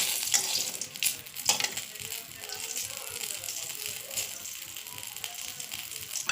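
Dried red chillies and cinnamon sticks crackle and sizzle in mustard oil, a fairly quiet, uneven frying with rattling pops and a few sharper spikes throughout.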